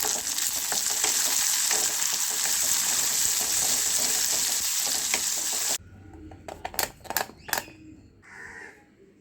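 Cashews and raisins frying in ghee, heard as a loud, dense, crackling sizzle for several seconds that cuts off abruptly and is followed by quieter clinks, scrapes and taps, with no talking.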